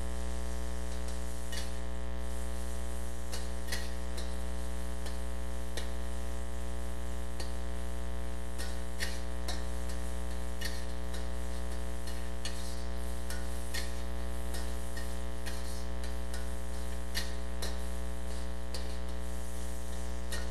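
Shredded chicken tossed into a wok with fried ginger strips, a loud, continuous sizzle with a strong steady hum underneath and frequent scraping, clacking stir strokes throughout, no voices.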